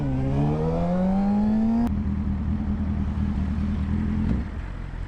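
A motorcycle with no exhaust pipe revs loudly and close, its raw engine note climbing steadily before settling into a rough, rumbling idle at a green-light start in California.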